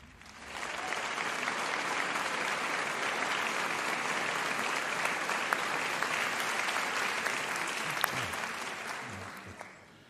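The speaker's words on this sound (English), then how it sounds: "Please give one more round of applause for Raluca, Ahmed, and Viljalmur." An audience at a European sustainability award ceremony for film applauds steadily for about ten seconds, a dense wash of clapping that swells in quickly and fades at the end, heard alone.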